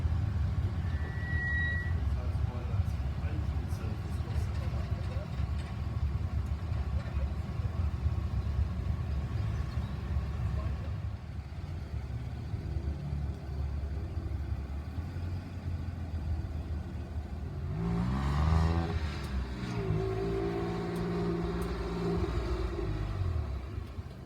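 Porsche cars in a busy hotel car park in Berchtesgaden: steady engine rumble and idling throughout, with a nearer car swelling past toward the end.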